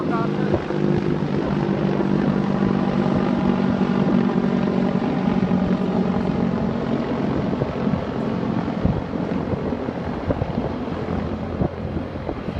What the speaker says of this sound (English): there's a military helicopter.